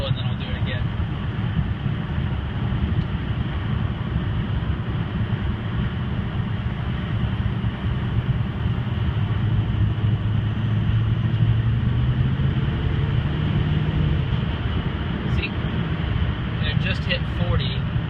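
A car with a factory 2003 turbo climbing a hill, heard as a steady, close in-cabin engine drone with a faint rising whine midway through and no other sounds standing out.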